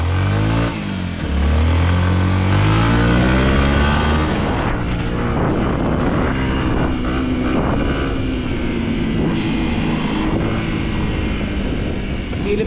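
A motorcycle engine hums and revs close by as it is ridden, a loud, continuous drone that rises and shifts in pitch over several seconds, with a person's voice mixed in over the engine noise.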